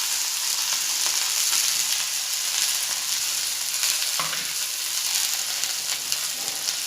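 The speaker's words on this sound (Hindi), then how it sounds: "इसमें हम भिंडी भून कर लेंगे" Okra fries in hot oil in a frying pan, giving a steady, close sizzle with occasional sharper crackles as it is stirred. Nobody speaks.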